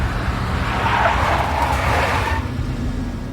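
A big black Mercedes in the Max Payne video game skids with a loud, sustained tire screech over engine noise, then the squeal cuts off and a steady rumble remains.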